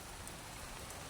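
Rain from a typhoon falls steadily beside a swollen river, a dense, even hiss with no breaks or voices.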